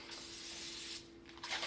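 A hand-pumped spray bottle hisses with a short misting burst and a second softer spritz near the end, close and quiet over a faint steady background hum.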